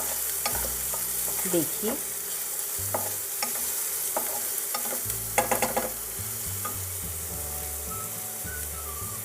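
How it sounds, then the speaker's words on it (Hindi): Onions fry in a pan with a constant sizzling hiss, broken by intermittent scraping stirs from a spoon, close by, and a single spoken word partway through. "प्याज को हम भूनेंगे इस तरह से।"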